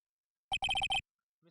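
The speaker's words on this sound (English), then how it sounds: "what is with this stupid sounding ringtone?" Cheap electronic phone ringtone in the Phoenix Wright Ace Attorney video game, a short burst of rapid bright beeps in a quick rhythmic cluster, clean and alone, followed by silence.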